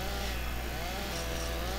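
A chainsaw in the video game GTA San Andreas drones steadily at a constant pitch for a couple of seconds, alone and fairly faint.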